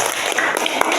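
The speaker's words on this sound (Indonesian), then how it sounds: "tepuk tangan" Students in a classroom clapping together during a Qur'an study lesson, a brief, dense patter of hands with a couple of sharper claps standing out.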